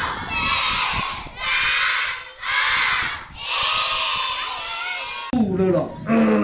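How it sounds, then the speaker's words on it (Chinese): Schoolchildren at a glove puppet show cheer and shout in long loud waves of crowd noise, then an amplified voice breaks in at the end. "掌声鼓励一下"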